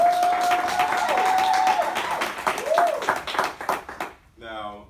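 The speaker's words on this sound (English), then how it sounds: "So give her a round of applause." Brief applause and clapping from an audience at a talk, mixed with a sustained tone and a speaking voice, fading quickly before a short burst of sound at the end.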